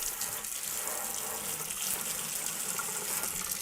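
Water from a kitchen tap runs steadily and close, rinsing a soy milk frother under the stream with a continuous splashing rush and no talk.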